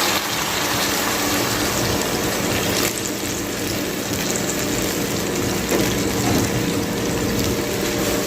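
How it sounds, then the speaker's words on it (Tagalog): Water poured into a cooking pot holding chicken and potatoes, a steady loud gushing rush that runs without break throughout, heard alone with no talk. "lagyan natin ng water para maluto yung ating chicken at saka yung ating patatas"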